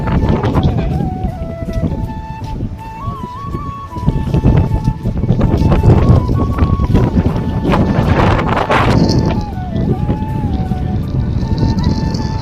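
Strong, steady seashore wind at Arabian beach roars and buffets the microphone throughout, with a person talking underneath the gusts.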